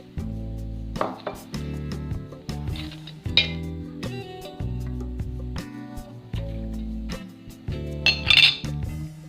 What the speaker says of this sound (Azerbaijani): soğanlarımızı xırda doğramırıq. İri şəkildə 2-3 yerə bölürük və qazanımıza əlavə edirik.